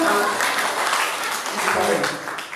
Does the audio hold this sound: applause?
yes